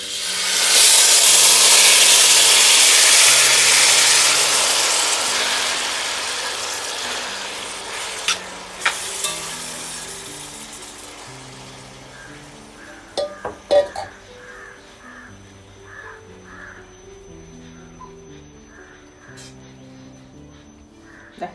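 Hissing sizzle as chopped jackfruit goes into hot melted ghee in a pan, loud at first and slowly fading, then scattered scraping and clinks of a spoon stirring the jaggery mixture.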